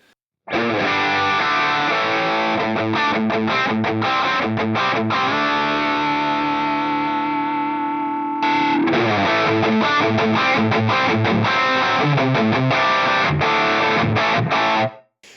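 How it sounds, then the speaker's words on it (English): Distorted electric guitar through a Rat distortion pedal model on a Fractal Audio unit, playing chords and riffs, with a sustained ringing chord in the middle before the strumming resumes. "Comparing that to the standard Rat model really quickly, he's down here, Rat Distortion."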